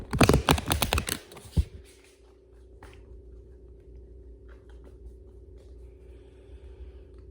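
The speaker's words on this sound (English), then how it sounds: "I am starting with the Earthcraft Oracle, and I'm just going to shuffle them." Earthcraft Oracle cards are shuffled with a burst of rapid riffling clicks for about a second and a half, close and crisp, followed by a quiet room hum and faint handling sounds.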